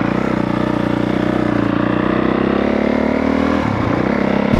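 A 2022 Honda CRF 450R dirt bike engine drones loud and close while being ridden, holding a steady, buzzy rhythm with a slight dip near the end.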